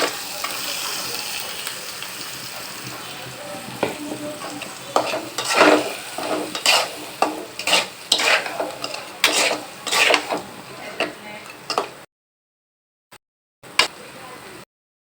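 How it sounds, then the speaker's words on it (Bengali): Tengra fish and spices being stir-fried and braised together in a pan: steady close sizzling with repeated sharp scrapes and clinks of a spatula against the pan, busier toward the end before the sound cuts out, leaving a few brief clatters. "এগুলো দিয়ে একসাথেই কষাবো"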